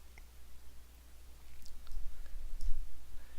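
A computer keyboard and mouse give a few sparse, faint clicks over a quiet background, close by, with no speech.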